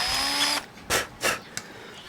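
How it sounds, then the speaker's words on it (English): Power drill widening a screw hole with a bigger bit: a loud whine that stops, followed by three short bursts of drilling close up. "So now I just got a little bigger screw or a bigger drill bit, and we're going to try and tap it out just big enough for the screw."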